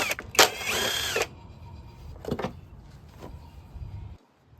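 A power tool whirs in short bursts while removing bolts from the plastic cover of a Kohler Courage engine, one longer run followed by brief pulses, close and moderately loud.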